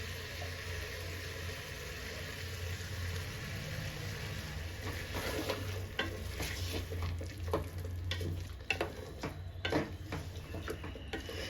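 Ground masala paste fries in a pan with chicken curry, giving a soft steady sizzle that grows busier midway as a spoon scrapes and stirs, with irregular clinks and knocks. No one speaks.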